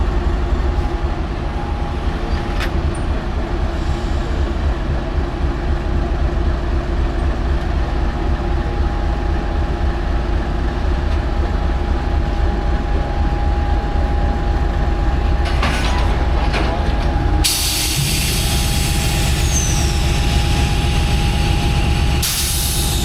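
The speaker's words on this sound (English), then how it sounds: "So this train is about to pull forward." A long passenger train rumbles steadily as it pulls forward, with low engine drone and rolling clatter, continuous and fairly close, with a brief hiss of brakes or air near the end.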